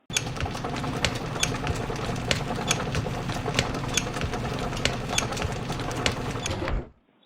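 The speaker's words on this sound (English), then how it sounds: "we may start the process of machining the hob on the lathe." A metal lathe cuts a screw thread while machining a gear hobbing cutter, a steady busy mechanical clatter with fast rhythmic ticking over a motor hum, close and even, then stopping abruptly at the end.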